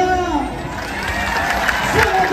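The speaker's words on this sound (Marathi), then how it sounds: "माझ्या राजासाठी जोरदार टाळ्या." A festive crowd at a Shivaji coronation celebration cheers and applauds in a steady, loud wash of clapping and shouting, with voices rising throughout.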